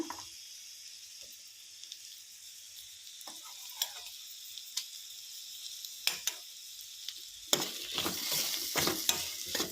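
Cucumber curry cooks in a pan with a faint, steady sizzle broken by occasional soft clicks, then a louder burst of stirring and frying noise near the end.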